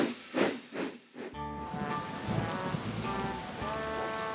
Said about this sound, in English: It was a rainy, muddy day on the island of Sodor.